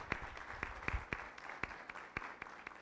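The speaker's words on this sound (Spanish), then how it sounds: "lo recibimos con un fuerte aplauso" Applause from a seated audience at a judicial conference in Mexico welcoming a magistrate, with fairly quiet scattered hand claps in an uneven rhythm, heard from some distance.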